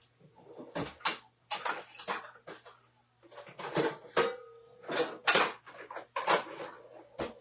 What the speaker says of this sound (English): Let me grab a bowl.